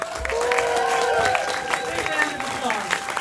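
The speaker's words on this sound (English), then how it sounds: "another round of applause for Lost Cause" Film festival premiere audience applauds the film Lost Cause, a dense wash of clapping with voices talking over it throughout.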